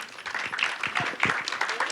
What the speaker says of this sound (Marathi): मोहित कुलकर्णींसाठी जोरदार टाळ्या.